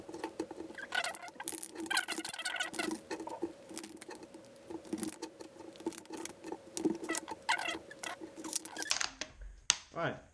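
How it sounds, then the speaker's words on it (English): Plastic mud guard sheet being taped down to a table, with repeated crackly patters and rustles of tape and stiff plastic handled up close for most of the stretch, ending in a brief louder thump. "Once you've got your tape, you can tape it down."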